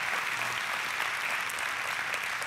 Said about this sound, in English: the whole church is going to be clapping right now